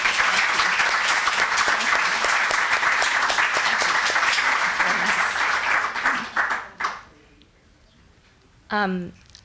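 An audience at a literary festival event applauds warmly to welcome translator Ann Goldstein, with sustained loud clapping that tapers off after about six seconds, followed by quiet and then a voice speaking.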